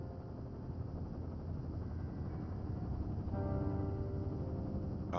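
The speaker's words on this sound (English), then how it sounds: "There's the helicopter." A helicopter arriving in the dark, a steady droning whir of rotor and engine at moderate distance that grows a little louder toward the end.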